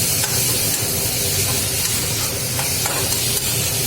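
Fermented bamboo shoot frying in a pan on a gas stove, a continuous close sizzle and hiss with light stirring scrapes throughout.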